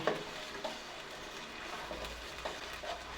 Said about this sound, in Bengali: ভালোভাবে তেলের সঙ্গে মেশাবো টমেটো নিয়েছিলাম মিক্সিতে পেস্ট করে নিয়েছি ভালোভাবে মশলার সঙ্গে মেশাবো